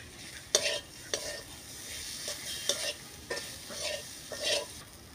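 Chili, cumin, coriander and ginger-onion pastes stirred in a hot pan for a puti fish, potato and bitter gourd curry: a soft steady sizzle with about seven regular spatula strokes, fairly quiet, no talking.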